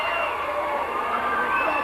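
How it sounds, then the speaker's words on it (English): A concert audience at a P.T.A.A. show in Drinagh cheers and applauds Father Cleary, a dense, steady wash of crowd noise with whoops and shouts, close and loud throughout. "A big round of applause for Father Cleary."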